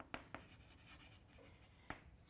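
Chalk or pen taps and scratches on a board during a calculus lecture: a few sharp strokes and taps spaced apart, with soft scraping between them, fairly quiet with no talk.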